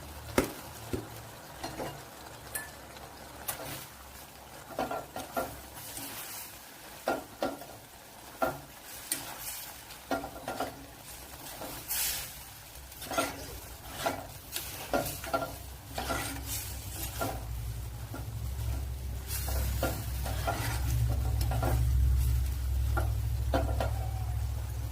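Vegetables and noodles being stir-fried in a pan with a utensil, producing rhythmic scraping and tossing strokes; a steady sizzle swells louder toward the end.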